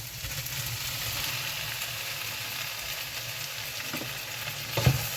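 Vegetables stir-frying in a pan for a Bengali dry fish curry in a London home kitchen, a steady close sizzle with faint stirring scrapes and a sharper clink near the end, no voices.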